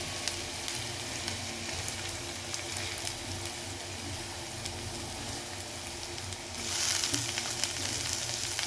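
Garlic added to hot white oil with chopped ginger frying in a pan for chicken soup, a steady soft sizzle that jumps louder and brighter near the end as the garlic hits the oil.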